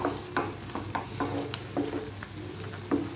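Bitter gourd pitlai simmering in thick tamarind water, with a spoon scraping and stirring the pot in repeated close strokes over a low bubbling sizzle, no voices.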